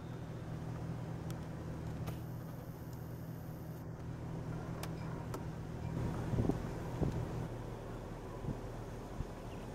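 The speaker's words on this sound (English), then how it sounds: "Just, dang, that wind. Kind of kicking up." Steady wind blowing across a lakeside campground at a national wildlife refuge, a continuous broadband rush with low rumbling gusts and microphone buffeting that swells briefly midway, with no talk over it.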